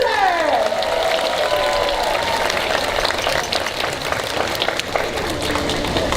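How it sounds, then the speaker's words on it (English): A crowd applauds at a sea lion show at the New York Aquarium: a loud, continuous roar of clapping with high whistle-like sweeps rising over it and a voice heard faintly underneath. "how about a big round of applause for my buddy Bruiser?"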